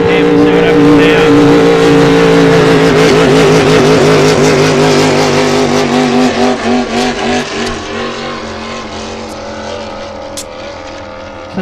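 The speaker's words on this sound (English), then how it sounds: "The boat seemed to look smooth and nice, but yeah, it was just making some funny noise" Racing boat engine running rough, a loud droning motor with a wavering, uneven pitch that pulses and gradually fades as it moves away, alone without talk.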